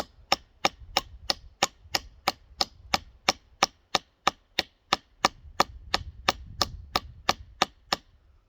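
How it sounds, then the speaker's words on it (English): A survival knife pommel, from a Buck Selkirk or Gerber Bear Grylls Ultimate, hammering a finish nail, a steady series of about twenty sharp metallic strikes, evenly spaced and close, with faint low handling noise between blows. "drives this finish nail in"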